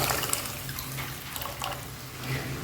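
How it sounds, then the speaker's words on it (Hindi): Water comes to a rolling boil in a cooking pot while macaroni is being made, a steady close bubbling and hissing wash that runs evenly throughout with no voices. "पानी में उबाल आ चुका है"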